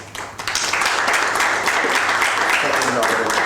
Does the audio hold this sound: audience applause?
yes